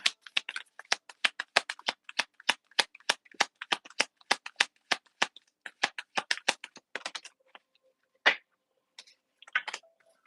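Tarot cards shuffled by hand in a quick run of crisp riffling clicks and flaps, close and fairly loud, followed by a few scattered taps and one last burst of card sounds with no talking.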